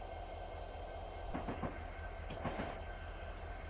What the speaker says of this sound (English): Train is already moving.